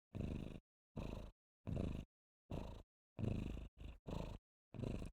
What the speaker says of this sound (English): He's rather quiet, but he is making noise. He is purring.